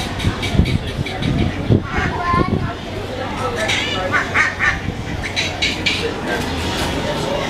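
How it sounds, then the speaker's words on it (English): Duck quacks in repeated bursts mixed with people talking and general outdoor background noise at Myrtle Beach. "He's making duck sounds and the ducks were flying."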